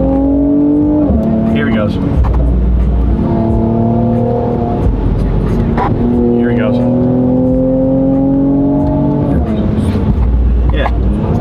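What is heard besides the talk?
car accelerating hard through back road turns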